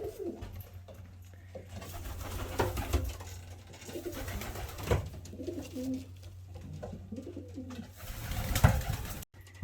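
Pigeons in a sunny loft coo softly and repeatedly, several low throaty calls overlapping at close range, with faint rustling between them and no talking.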